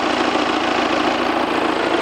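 An Audi Q5 engine idles with the hood open, a steady even hum with a fine rapid pulse that stays constant and close throughout.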